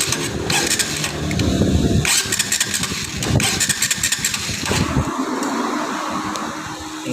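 A TMX Supremo motorcycle engine runs steadily close by after a tune-up, with an unusual mechanical noise in its running, loud and continuous with no talk.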